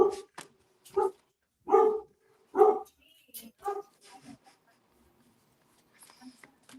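A dog barks about five times in separate, fairly loud bursts over the first four seconds, followed by softer scattered sounds and near silence.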